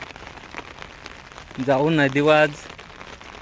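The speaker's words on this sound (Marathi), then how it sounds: "कसला जोराम पाऊस आलेला आहे, भयंकर पाऊस आले" Heavy rain pours down near a river, a dense steady hiss throughout, while someone talks briefly over it in the middle.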